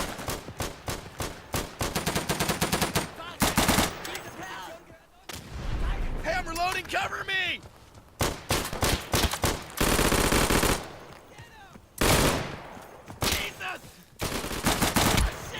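Gunfire from the World War II shooter Day of Infamy rattles in loud automatic bursts and single cracks, repeated throughout with brief gaps, while a player talks at times.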